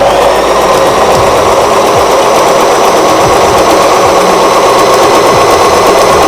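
Singer Start 1306 sewing machine motor running as it stitches cloth, a loud, close, steady whir with a rapid rhythmic needle chatter that holds for several seconds before cutting off at the end.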